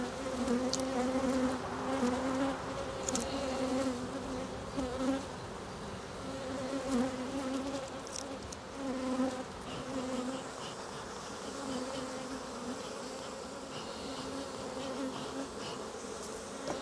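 Honey bees swarm in a steady, layered buzz at an opened Langstroth or Segeberger hive during an inspection, a fairly quiet hum that goes on without break, with faint handling noises and no speech.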